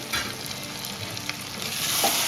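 Chitol fish curry being stirred and fried in a pan for a Bengali jhol, a steady bright sizzle with scraping stir strokes, close and continuous with no talk.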